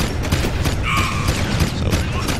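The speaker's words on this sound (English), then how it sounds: "So, we're gonna try the blue gun out." Rapid mechanical bursts and clattering blasts from the blue gun in the video game Jak II, a loud, dense stream of repeated shots with a brief whining tone in the middle, no voices.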